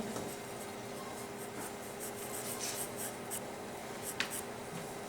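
A pencil sketches a cartoon rabbit's ear on paper, giving a soft, continuous scratchy rubbing with a few short strokes, close and quiet, no voices.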